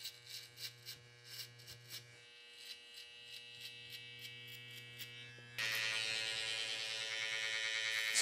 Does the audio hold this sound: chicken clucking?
no